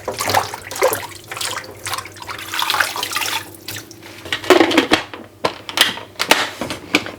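Wilted garden lettuce being washed under a running kitchen tap, a steady splash of water with irregular clatter and handling noises, close by.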